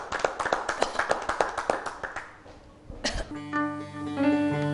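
An audience at a televised Algerian variety show claps for the singer, a run of sharp, uneven claps that thins out and fades. Instruments then strike up and settle into sustained musical tones.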